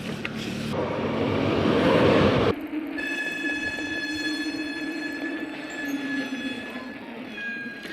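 A tram rumbles loudly past nearby, then fades into a lingering hum with high, steady squealing tones from the wheels.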